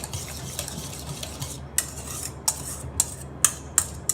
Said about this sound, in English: So now we're going to mix these ingredients together